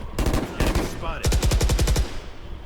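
Bursts of machine gun fire in the video game Valorant: two short bursts and then a longer rapid string of loud, evenly spaced shots, close up.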